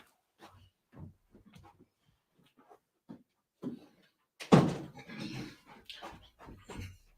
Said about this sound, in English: I'm going to close my door of my office.